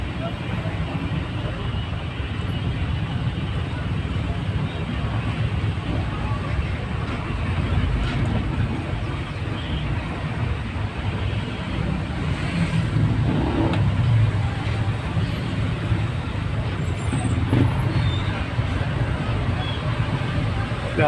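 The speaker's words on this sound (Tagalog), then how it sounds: "Grabe talaga bigat ng traffic guys" Heavy, slow-moving road traffic on a trip to Sto Tomas, Davao del Norte: a dense, continuous wash of engine hum and rumble with occasional louder vehicles passing close, under intermittent talk.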